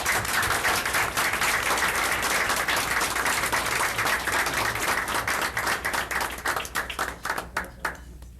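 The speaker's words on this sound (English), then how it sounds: "A round of applause." Sustained audience applause at a 1999 school board meeting, dense and steady for several seconds before thinning into scattered claps at the end.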